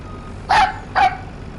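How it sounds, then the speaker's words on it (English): Two short electronic reversing beeps from a big green semi truck in a farming video game, evenly spaced and fairly clear over a low engine hum, with no talking. "I need to pop into the big green semi truck here."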